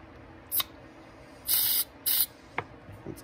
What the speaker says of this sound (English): We washed them with the carb cleaner. All the jets.